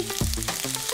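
Seitan frying until crispy in a pan, a brief burst of close sizzling and crackling with a clunk near the start.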